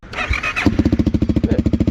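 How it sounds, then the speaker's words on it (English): A CFMOTO 300SS sport bike exhaust starts as a rough, noisy burst, then settles into a loud, close, steady rhythmic idle thump with evenly spaced pulses. "You can hear that's the exhaust."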